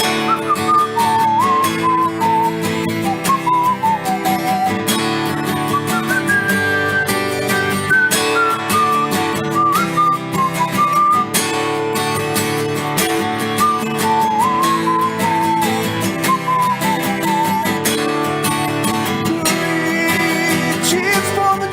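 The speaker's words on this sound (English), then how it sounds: "Everything's a whistle solo now." A bright melodic whistle carries a solo line in an upbeat Dungeons & Dragons-themed song, loud and continuous over a full band accompaniment for about twenty seconds.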